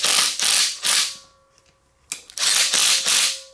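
An 18-volt cordless impact gun tightening ARP hardware on an aluminum small-bore stroker engine build, loud rattling hammering bursts, three in quick succession, a pause, then a longer run of bursts.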